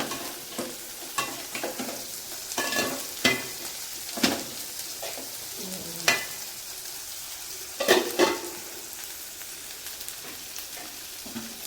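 Tomatoes sautéing in a pan give a steady soft sizzle, broken by several scraping stirs at uneven intervals, close up with no talking.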